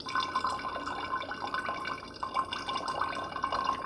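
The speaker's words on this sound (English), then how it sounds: "And then we just pour this syrup through a strainer into a bottle." Froot Loop syrup pours through a strainer into a bottle as a close, continuous trickling and dripping stream of liquid, steady and fairly loud with small gurgling variations.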